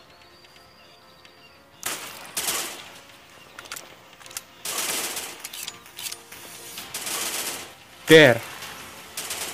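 Sniper rifle shots in a commando-style military shooter game ring out as a few sharp, loud bursts spaced several seconds apart, with a voice talking briefly between them.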